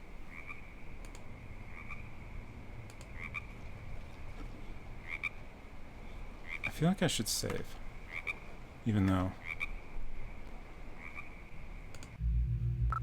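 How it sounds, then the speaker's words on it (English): Frogs croaking in The X-Files Game, repeated ribbity calls over a night-time ambience with a few sharp clicks, moderately loud, while a person speaks briefly. "It's a good frog sound."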